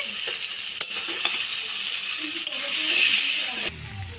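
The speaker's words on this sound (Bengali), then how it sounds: "দেখো দেখো একদম লাল লাল করে ভেজেছি টমেটো আর আলু" Green tomatoes and potatoes fry in a pan with a steady bright sizzle, broken by a few clinks and scrapes of stirring before the sizzle cuts off abruptly near the end.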